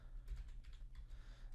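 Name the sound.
typing on a computer keyboard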